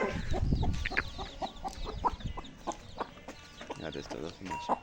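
Chickens cluck repeatedly in short, busy bursts at close range, with a voice talking over the flock.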